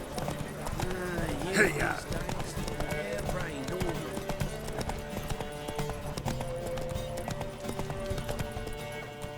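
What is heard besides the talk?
horses galloping in The Witcher 3 video game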